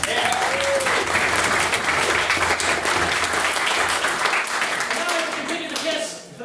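Sustained audience applause in a debating society chamber following a maiden speech, dense steady clapping throughout with some voices and cheers mixed in, tapering slightly at the end.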